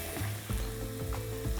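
Onion frying in a pan as a burrito filling, a steady crackling sizzle broken by several scraping stirs at regular intervals, with no voices.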